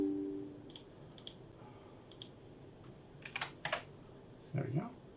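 Keyboard shortcut pressed on a computer keyboard while exporting from animation software: a few soft, close key clicks in small clusters over a quiet room, with a brief murmur near the end.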